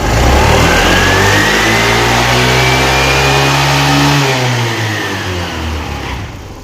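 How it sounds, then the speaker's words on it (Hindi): A Honda Activa BS6 scooter with a battery-charging and self-starting problem revs loudly from idle, its engine note climbing and holding for a few seconds before easing back down, heard up close. "ये गाड़ी अभी मेरी आइडल में है, थोड़ी रेस का इस्तेमाल करके फिर देखते हैं"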